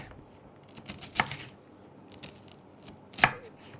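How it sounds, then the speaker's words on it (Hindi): A knife slices through a peeled onion on a board in a home cooking show kitchen. There are two distinct sharp cuts with a few softer taps between them, close and fairly quiet, with no talking. "अनियन को पील करके अच्छे से बस आप इसको जस्ट इसके स्लाइस कट करेंगे"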